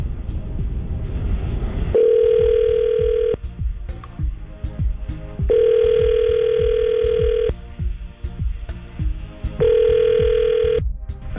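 Three long electronic ringback tones repeat at regular intervals over a thumping rhythmic background.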